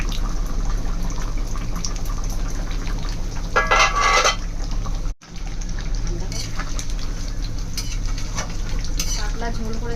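Mutton frying in a pan for a thin Bengali-style goat curry, a steady sizzle running throughout with a brief louder burst of stirring and scraping partway in, and a short dropout just after the middle.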